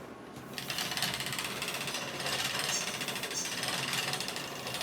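A freshly oiled spinning wheel whirs fast with a steady, busy mechanical chatter and rattling clicks, loud and continuous throughout, with no voices.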